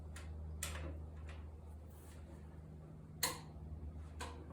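A torque wrench tightens the flywheel bolts on a Triumph TR6 engine, producing a few faint, sharp clicks and ratchet ticks spaced irregularly over a quiet workshop hum.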